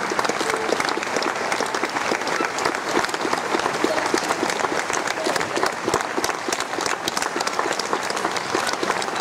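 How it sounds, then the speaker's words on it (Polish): Sustained applause from an audience for award laureates at a prize announcement ceremony, dense even clapping throughout at steady loudness, with a faint murmur of the crowd mixed in. "brawa dla naszych laureatów"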